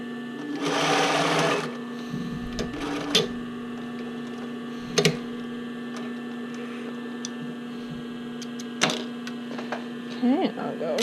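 A sewing machine stitches strap elastic onto a bra band in a short burst of rapid mechanical whirring, followed by a steady mains hum, scattered handling clicks and a brief murmur of voice.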